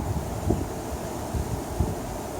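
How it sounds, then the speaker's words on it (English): Wind blows outdoors in a steady broadband rush and buffets the microphone. Low thumps of gusts come through, with no voices. "The wind in my hair. Listen."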